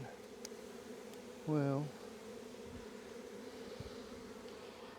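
A swarm of honey bees is being caught into a box in the rain, a faint, steady droning buzz that continues throughout, with one short spoken word partway through.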